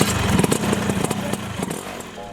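Classic Vespa scooter engine revving up close and loud, a buzzy two-stroke note with repeated throttle blips that rise and fall, heard alone without talk.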